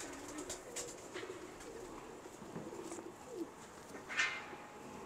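Soft, low cooing from kept pigeons at a fancier's loft, faint and intermittent over a hissy background, with a brief sharper sound near the end.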